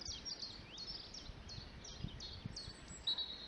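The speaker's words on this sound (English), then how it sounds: "I can hear a lot of other birds." Several wild birds chirp and trill across open fields by a hedge and trees, with thin, high, scattered calls at a distance over quiet rustling background.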